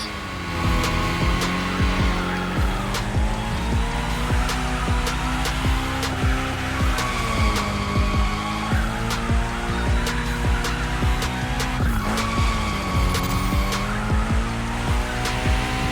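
A car drifts in The Crew Motorfest video game, its engine droning and revving steadily while tires squeal and skid continuously, loud and close throughout about sixteen seconds.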